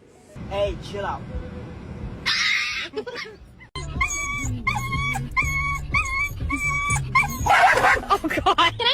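A dog yips, whimpers and barks in bursts of high, whiny cries, close by and mixed with people talking over it.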